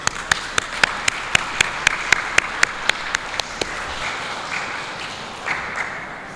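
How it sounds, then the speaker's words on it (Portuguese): A round of applause at a Sunday church gathering: sharp, evenly spaced claps at first, blending into a wash of many hands clapping that gradually softens. "Así que también un aplauso para ustedes."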